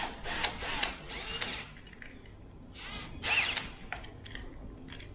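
A power tool tightens a bolt during a second-battery install in a Jeep JL Wrangler, giving several short whirring, ratcheting bursts close by, with brief pauses between them and no talking.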